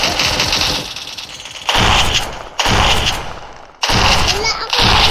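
Bursts of rapid gunfire come in several loud volleys separated by brief pauses, crackling and dense, close to the listener.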